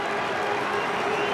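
A large cricket crowd at a 2004 Champions Trophy match between England and Sri Lanka cheers and applauds a wicket, a steady, dense roar of clapping and voices filling the whole moment without a break.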